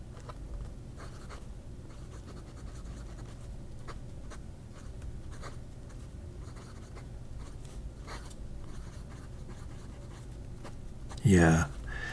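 Fountain pen with a fine, springy Hongdian nib writing on Amalfi paper, faint scratchy strokes repeating through a low hum, with a brief loud burst near the end.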